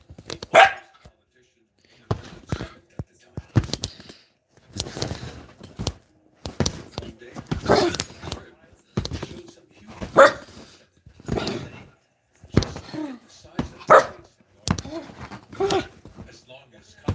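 Small puppy barking in short yappy bursts spread through the clip, close by, mixed with a person talking to it and brief whooping calls.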